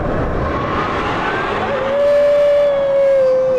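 The McMurtry Spéirling fan car's fan blows with a steady loud rush, joined midway by a sharp rising whine that holds and swells as the airflow grows stronger.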